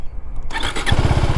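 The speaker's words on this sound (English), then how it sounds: "let us turn on the" A 2025 KTM Adventure 390 motorcycle engine cranks briefly and catches, settling at once into a loud, close, throbbing idle.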